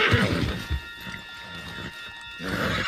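Horse in Red Dead Redemption 2 with a whinny at the start and again near the end, and soft hoof clops between them, close and moderately loud.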